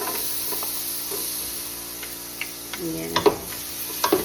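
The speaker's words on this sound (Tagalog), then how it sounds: "So, unang lutuin natin ay bawang." Garlic fries in cooking oil in a pan, giving a steady close sizzle under which a few utensil clinks and scrapes rise toward the end; a brief word is spoken.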